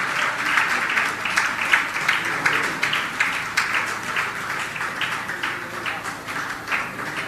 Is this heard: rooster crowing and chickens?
no